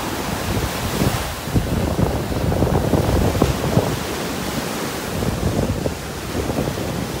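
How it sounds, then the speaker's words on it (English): Surf rolling onto a North Naples beach on the Gulf of Mexico under a strong onshore breeze, a steady loud roar of breaking waves mixed with gusty wind buffeting the microphone, no voices. "We're gonna be fighting these waves,"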